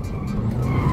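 A Mercedes drifting sideways makes a brief, close skid, with a continuous rough tire scrub and engine rumble.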